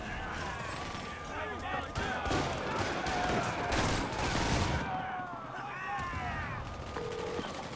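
Enemies and escaped prisoners fire guns at Spider-Man in the video game Marvel's Spider-Man (2018) Remastered. Dense, continuous bursts of gunfire and impacts crackle throughout amid chaotic combat noise, loud and close.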